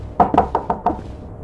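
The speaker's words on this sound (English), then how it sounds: "Let them knock." Five quick knocks on a door in the Pizza Horror video game, evenly spaced and close, ringing with a hollow wooden tone before fading into quiet.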